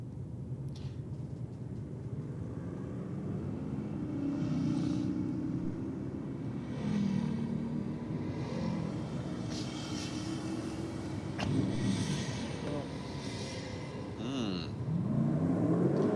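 VS Commodore and Ford Capri cars drag racing, engines rumbling and revving at a distance with rising pitch sweeps as they accelerate, over steady low track noise.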